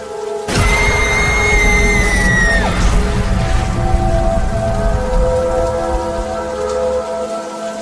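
Heavy rain pours steadily on a surface through a stormy night near a forest church, a loud sustained downpour with a rumbling low roar beneath; a brief sweeping tone fades early on, then the rain continues alone.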